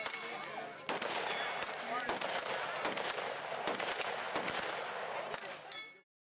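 Rapid gunfire from 9mm firearms, a modular pistol and a compact personal defense weapon, at an outdoor shooting range, a dense loud continuous stream of shots lasting several seconds before stopping abruptly.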